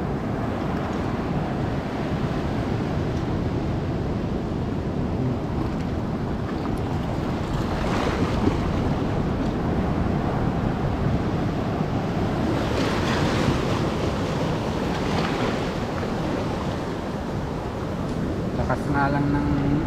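Ocean waves roll and wash continuously at a shore with seaweed and sea grapes, wind buffeting the microphone, a steady surf wash lasting throughout.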